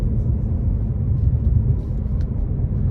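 A 2023 Ford Mustang Mach 1 with a 480 hp 5.0 V8 drones steadily at low pitch while driving in town, a continuous rumbling engine tone with no voices.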